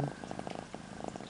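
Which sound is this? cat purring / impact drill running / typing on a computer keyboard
cat purring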